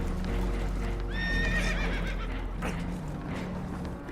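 In Red Dead Redemption 2, a spooked horse whinnies loudly over a deep, constant rumble of wind and water as a boat takes on water, with hooves clattering faintly underneath.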